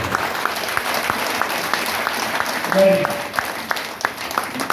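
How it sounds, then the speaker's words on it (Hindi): An audience claps in a seminar hall for a woman who stood up, with steady, moderately loud applause through the whole stretch and a brief tone and some voices mixed in near the middle. "दीदी के लिए ताली बजा दो।"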